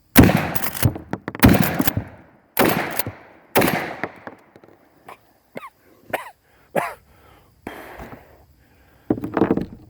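Old shotgun shells fired one after another: about eight sharp, loud reports at irregular intervals, each with a short echoing decay, some weaker than others.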